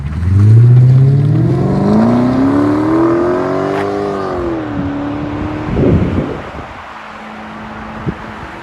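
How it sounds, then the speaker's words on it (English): A Lexus SC400 V8 engine revs up with a rising, throaty pitch, holds, then drops back to a lower idle, loud and close. "That's how all Lexuses should sound."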